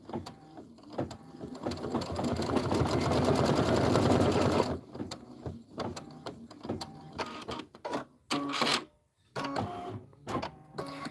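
A Kimberbell embroidery machine stitches a placement outline for the pink of bunny ears on a mini quilt, a steady loud buzz of rapid needle strokes running about four seconds, then breaking into stuttering bursts and pauses of shorter stitching runs.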